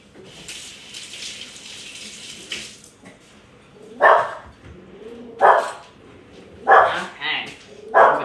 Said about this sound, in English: Dog alerting us to a runner.